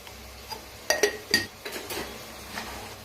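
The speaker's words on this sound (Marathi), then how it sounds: "छान मिक्स करूया" Metal utensils clink and scrape against a cooking pan while turmeric, red chilli, sabzi masala and coriander powder are stirred into masala rice, a few sharp close knocks amid softer scraping.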